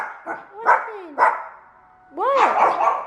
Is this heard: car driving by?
no